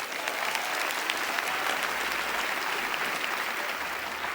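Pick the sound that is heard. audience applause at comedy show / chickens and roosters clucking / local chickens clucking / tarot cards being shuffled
audience applause at comedy show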